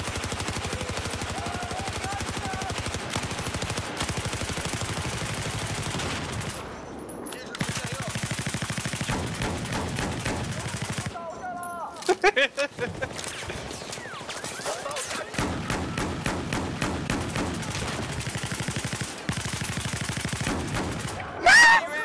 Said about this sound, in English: Fire hostile machine gun.